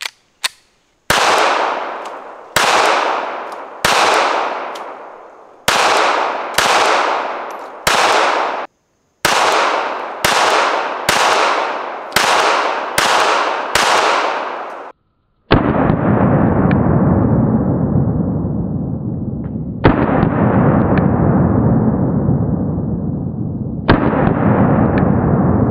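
Pistol shots from a Springfield Armory Hellcat .380 fired at a range, a series of loud, sharp cracks in quick strings with short pauses, followed by a few heavier booming reports with long decaying echoes.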